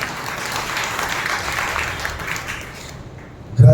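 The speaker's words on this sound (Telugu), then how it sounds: "మరలా బిగ్గరగా చప్పట్లు కొట్టి ప్రభువును మహిమపరుస్తాం." A church congregation at a Sunday Pentecost service in Nellore claps loudly and steadily as one dense wash of applause, which thins toward the end before a sudden louder burst closes the moment.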